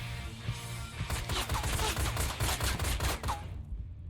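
Enemy gunfire in the video game Ride to Hell: Retribution: dense, repeated bursts of shots crackle for most of the stretch, then cut off near the end, with no talking.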